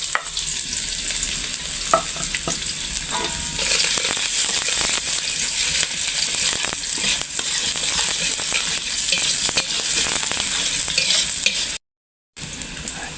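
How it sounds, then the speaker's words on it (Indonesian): Water spinach stir-fried with shallots and garlic in a hot pan, a loud, steady close sizzle with scraping stirs throughout, ending in a brief cut. "Sekarang kita numis kangkung"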